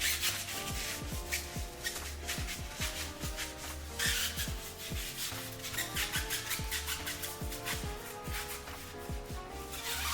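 A stiff brush scrubs the outer sidewall of a car tire in quick repeated strokes, a rhythmic rasping scrub that runs close and steady throughout with no talking.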